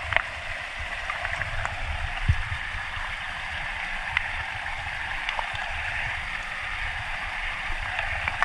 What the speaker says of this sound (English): I'll rinse it.